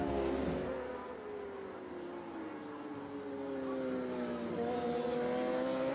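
A Suzuki racing motorcycle laps Brands Hatch in a race, its engine note rising and falling in a continuous high whine heard from a distance, steady and moderately loud throughout.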